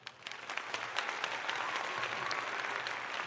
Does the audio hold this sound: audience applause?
yes